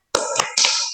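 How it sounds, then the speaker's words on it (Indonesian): A group performing a rhythmic spirit clap in a classroom session, a few quick, sharp, close claps in a short patterned burst, with no talking. "Yuk, tepuk semangat."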